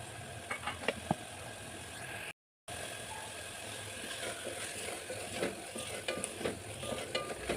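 Spinach paste for palak rice cooking in a pan, giving a quiet, steady bubbling sizzle with occasional soft stirring clicks and a short gap of silence partway through.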